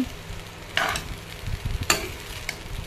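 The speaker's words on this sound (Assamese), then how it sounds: "ভাজি হোৱাৰ পিছত ঠাণ্ডা ভাতখিনি মই কেৰাহীটো দি দিলোঁ" Cold leftover rice being stirred and fried in a wok (kerahi), with two sharp scraping strokes of the spatula over a soft, continuous sizzle.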